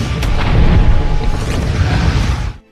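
A bomb goes off in a Korean action film, a loud, close blast that sends a heavy low rumble through the full length of the sound before it cuts away abruptly.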